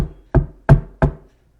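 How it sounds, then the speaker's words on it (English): Three firm, evenly spaced knocks on a door after an initial tap, each a hollow, close, resonant thud with no voices. "knocks the door."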